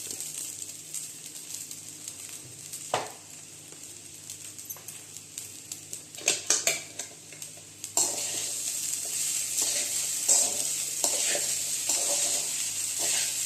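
Sago pearls stirred and sizzling in a pan for sabudana khichdi, with steady frying hiss and scraping stirs that grow louder and denser partway through, no voices.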